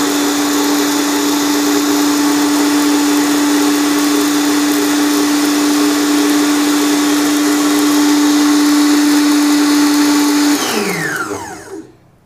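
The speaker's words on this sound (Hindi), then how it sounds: "ये हमने इसमें चीज़ें डाल के और ये इसको ब्लेंड कर दिया" An electric blender runs steadily, blending a barberry and mint chutney with a loud, even motor whine, then winds down and stops near the end.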